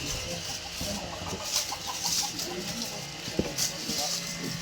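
Chickens cluck and murmur in a repeated pattern under low outdoor chatter and background noise, with one sharp knock near the end.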